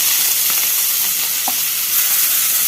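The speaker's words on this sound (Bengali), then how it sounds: "একটুখানি এর মধ্যে পেঁয়াজ দিয়ে দেবো।" Onion fries in a pan of hot oil for a Bengali sorshe potol dish, a loud, continuous sizzle with occasional scraping strokes of a stirring spoon, without any talk.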